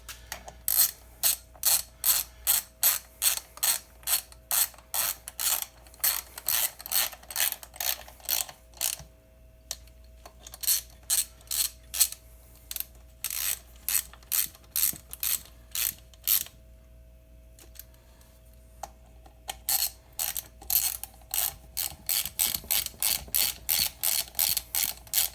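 A ratchet wrench clicks in fast, even bursts while tightening bolts on a homemade wood splitter, loud and close, with short pauses between runs of rapid pawl ticks and no speech.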